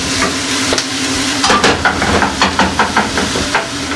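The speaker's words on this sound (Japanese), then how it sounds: "ではぼちぼちこの玉ねぎも炒めましょう" Onions stir-fry in a pan for a lasagna built from wonton wrappers, a steady close sizzle broken by repeated scraping strokes of a utensil against the pan, with no voices.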